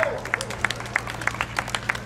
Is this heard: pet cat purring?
no